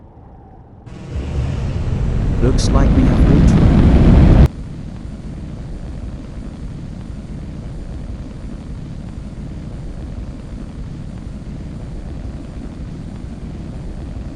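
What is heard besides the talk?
rocket booster engines starting up for landing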